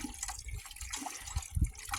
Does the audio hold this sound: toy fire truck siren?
no